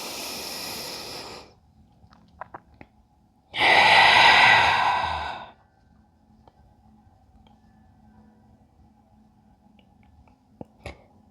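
Slow yoga breathing during a core-focused somatic session: a long, airy exhale, a pause, then a louder, fuller breath lasting about two seconds, followed by near-silence with a few faint clicks.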